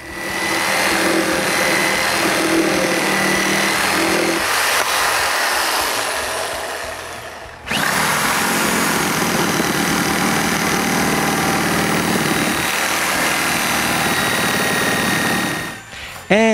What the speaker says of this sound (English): The rest of the cut are done with a reciprocating saw.